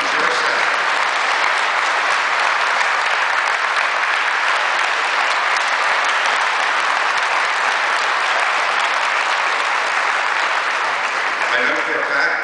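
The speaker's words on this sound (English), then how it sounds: "Please stand and give yourself a great round of applause" Sustained, dense applause from a large standing audience filling an arena at its grand opening, loud and steady throughout with crowd noise mixed in, easing slightly near the end.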